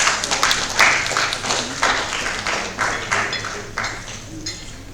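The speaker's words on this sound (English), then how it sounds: "Please welcome them with a round of applause." Audience applause at a business conference welcoming a panel, a rolling patter of claps that swells and dips in waves over a room tone, with some talk mixed in.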